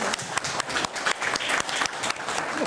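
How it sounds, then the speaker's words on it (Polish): Applause for a company president at a preparatory meeting for a 2018 economic forum, a dense burst of hand clapping from a small crowd, close and lively, lasting throughout. "dajmy oklaski dla Pana Prezesa"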